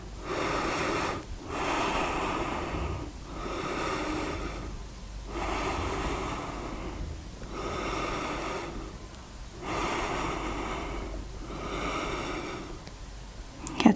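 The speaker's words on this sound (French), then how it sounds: "Quatrième respiration." Slow, steady breaths held in a yoga grasshopper pose, each long airy inhale and exhale swelling and fading in an even rhythm, close and fairly quiet with no talking.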